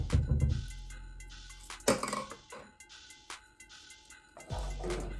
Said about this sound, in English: Now mix it all up with your spoon.